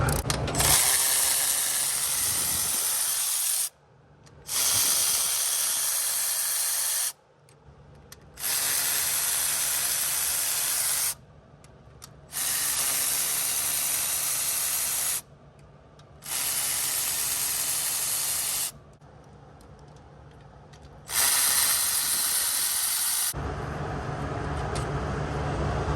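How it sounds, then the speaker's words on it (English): Ratchet wrench loosening head bolts on an LS3 V8 engine, several bursts of steady ratcheting lasting a few seconds each with short quiet gaps between them, close and clear. "start taking these head bolts out. I'll start with the back ones and make my way up. Get these bolts loosened."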